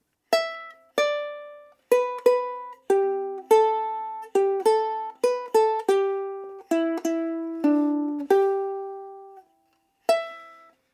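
Plucked ukulele notes pick out bars 5 to 8 of Auld Lang Syne, one clear note at a time in a gentle melodic rhythm, each note ringing and then fading. The playing is solo and close.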